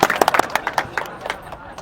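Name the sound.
clapping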